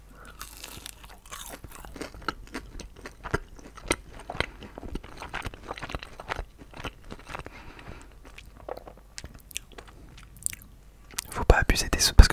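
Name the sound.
chewing crispy breaded McDonald's chicken nuggets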